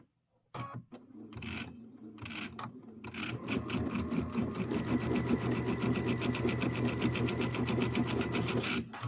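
A sewing machine stitches quilt pieces, starting with a few short bursts and then running in a fast, steady rhythmic chatter, close and clear.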